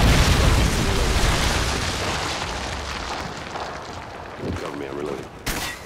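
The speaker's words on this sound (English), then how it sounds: "Friendly Predator missile inbound." Predator missile strikes in Modern Warfare 2 team deathmatch on Karachi land as a loud, rumbling blast that slowly decays over several seconds, followed by a sharp burst and crackle near the end, with game chatter mixed in.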